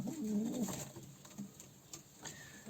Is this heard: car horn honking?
no